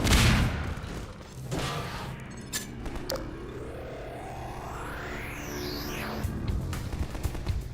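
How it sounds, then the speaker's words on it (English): Shotgun blasts from an ally in Half-Life 2 boom out near the start over a loud, dense game soundscape, followed by a long rising mechanical sweep and scattered impacts under continuous rumble. "she's gonna be using a shotgun from now on"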